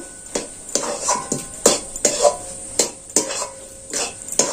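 A spoon scrapes and knocks against a pan while a potato filling seasoned with chaat masala is stirred, a series of irregular clattering strokes about every half second, up close with no talking.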